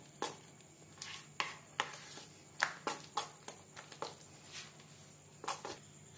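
Batter being mixed with refined oil, a series of soft, irregular clicks and scrapes of a utensil against a bowl, close and fairly quiet, with uneven rhythm.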